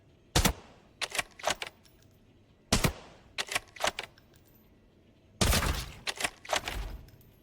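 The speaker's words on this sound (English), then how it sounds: "3 headshots out of the best sniper rifle in this entire game." Sniper rifle gunshots firing T5 ammo in the Arena Breakout video game: three loud, sharp cracks spaced a couple of seconds apart, each trailed by quick mechanical clicks and rattles; no talking.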